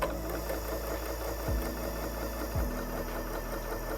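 Janome MC6700P sewing machine running a straight stitch at medium speed without the foot pedal, a steady close mechanical whir with rapid needle rhythm and two brief dips in motor pitch.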